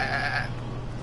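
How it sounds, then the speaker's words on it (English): A billy goat bleats once in a short, wavering call over a steady background hum, fading out partway through with no talk. "we have a Billy Goat alert"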